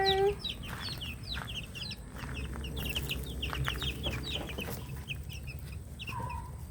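Bulik Gilmore chicks clucking and chirping close by, with rapid, overlapping high peeps repeating throughout over a low background hum.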